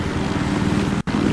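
A helicopter's rotor in Battlefield Hardline chops steadily, loud and close, with a brief dropout near the end.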